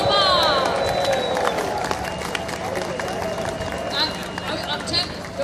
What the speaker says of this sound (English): There they are, they're coming, come on, give them a cheer